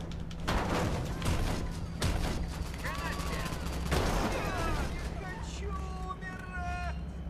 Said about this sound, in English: What gun is this? Oh, it's the assault rifle!